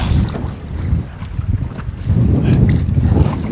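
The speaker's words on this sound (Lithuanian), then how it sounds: "Toks šoninis vėjas gaunas grinai dabar" Gusty side wind buffets the microphone while paddling a boat on the Peršokšna river, a steady low roar that surges louder in the second half, with faint water lapping underneath.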